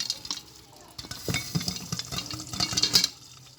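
Popcorn kernels popping in a pan on the stove while the pan is shaken, giving scattered sharp pops and a rattling, stirring scrape at close range without voices.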